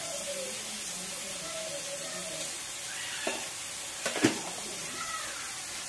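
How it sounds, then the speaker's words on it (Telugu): Half a spoon of ginger-garlic paste frying in oil for a brinjal and pea curry, a soft continuous sizzle close by with a few light clinks of a spoon near the end. "ఈ ఆయిల్లో వేపేద్దాము, చక్కగా వేగిపోద్ది"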